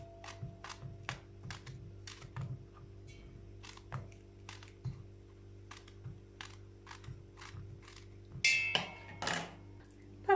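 A knife dices peeled eggplant into small cubes on a cutting board, many quick close taps in an even rhythm, with a brief clatter near the end.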